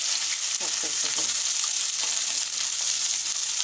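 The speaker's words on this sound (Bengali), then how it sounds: "মাছগুলো ভাজা হয়ে গেছে, মাছগুলো এবারে তুলে নেবে একটা একটা করে।" Fish pieces fry in a pan in a Bengali home kitchen, a loud continuous sizzle with a few quick stirring scrapes early on, close and without talk.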